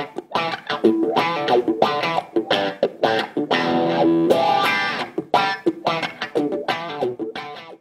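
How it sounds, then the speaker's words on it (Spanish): Distorted electric guitar run through a wah pedal, played as choppy bursts of chords and notes with a sustained swell in the middle, loud and close with no talking. "Ahora si todo esto le agregamos un poquito de distorsión."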